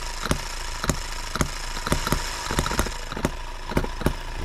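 An engine with a carburetor runs steadily nearby, chugging in an even rhythm of sharp, regularly spaced pops over a continuous rough drone, with no voices.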